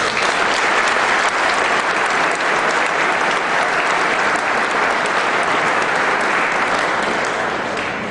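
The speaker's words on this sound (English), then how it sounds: "Let's give them a round of applause, please." An audience at a university student recreation center ribbon-cutting ceremony gives a loud, dense round of applause, many hands clapping continuously at full strength before easing slightly at the end.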